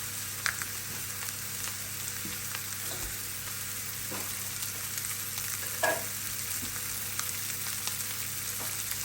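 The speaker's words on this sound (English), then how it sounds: "It smells wonderful while it's searing" Roast beef searing in a hot pan, a steady, fairly quiet sizzle and crackle with a few small pops and scrapes, and no voices.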